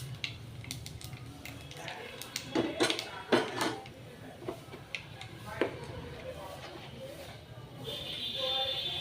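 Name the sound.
black cumin (kalonji) tempering sizzling in oil, pan cooking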